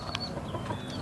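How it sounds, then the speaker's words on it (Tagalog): A chicken gives a couple of brief, faint clucks against quiet rural background noise, one short burst early and a softer one near the end. "Ano, Adyo, manghuli tayo ng manok?"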